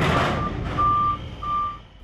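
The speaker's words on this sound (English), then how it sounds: "This drone video shows trucks loading the Marilyn Monroe with more than 300 tons of rock." Trucks loading rock onto a barge give off repeated high electronic reversing beeps, several long tones in a row, over a low engine rumble that fades in and out, with no voices.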